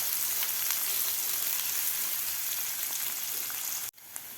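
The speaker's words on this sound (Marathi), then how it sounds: "थोडासा फ्राय करून घ्यायचा आहे कांदा आपल्याला." Chopped onion fries in hot oil in a pan for a ukadpendi breakfast, a loud, steady, close sizzle that cuts off abruptly near the end, no voices.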